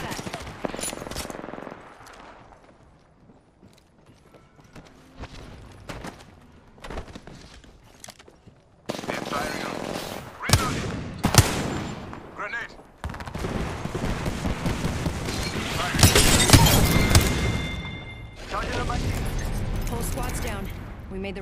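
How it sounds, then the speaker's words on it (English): Automatic weapons fire rattles through an Apex Legends battle royale match in repeated rapid bursts, some near and loud, others quieter, with gaps between exchanges and a voice speaking at times over the shooting. "Getting shot at."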